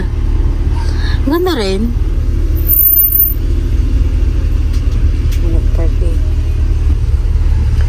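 A 1989 Acura Legend with a manual transmission idles with a steady, loud low rumble that carries throughout, while people talk briefly over it.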